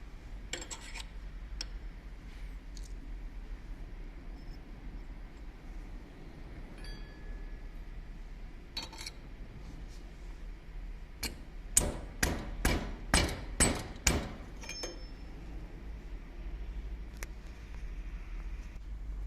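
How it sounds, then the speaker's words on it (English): An engineer fits an O-ring onto a Caterpillar C7 fuel injector with an O-ring install tool, giving a quick run of about half a dozen sharp metallic taps over quiet room hiss, with a few scattered clicks before and after. "Now let our engineer install the O-ring"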